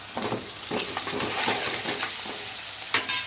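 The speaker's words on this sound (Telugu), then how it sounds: "అల్లం వెల్లిగడ్డ మంచి వేగింది" Onions with ginger-garlic paste sizzle and fry in a pan, a steady crackling hiss broken by scraping stir strokes and a couple of sharper clinks near the end, with no talking.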